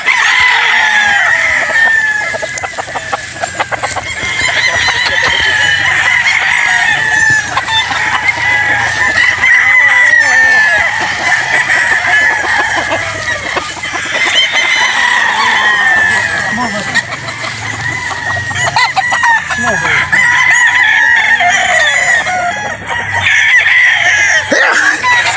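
Boston roundhead gamecock roosters and battle stags crow repeatedly over steady clucking from a large flock at a gamefowl farm, the calls loud and overlapping throughout.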